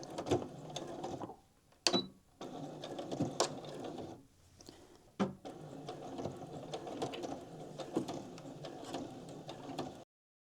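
A sewing machine stitches steadily around the edge of a quilt, a close, rapid mechanical whir broken by two short pauses where the stitching stops and restarts, with a hump jumper helping the needle over thick corner seams.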